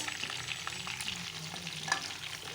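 Chicken deep frying in hot oil for a hotel-style chicken fry curry, giving a steady soft crackling sizzle throughout with small pops, fairly quiet and with no voices.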